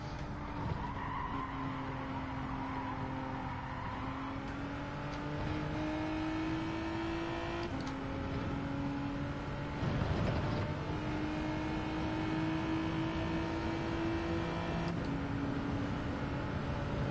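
A GR3 race car lapping Laguna Seca in a racing video game drones steadily through gear changes, with engine pitch rising and dropping and tires scrubbing and squealing through corners, continuous and close with no talk.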